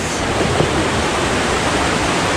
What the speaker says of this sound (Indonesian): Ini kita sudah kedengaran suara air terjunnya